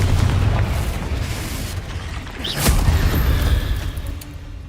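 A Confringo fire spell blasting in the video game Hogwarts Legacy: a loud, booming burst with a rumbling tail, swelling again midway through.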